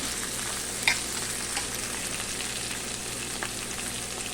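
Vegetables stirred briefly in a hot frying pan for flattened-rice pulao, a steady oil sizzle with a few scraping spoon knocks against the pan, close and without talk.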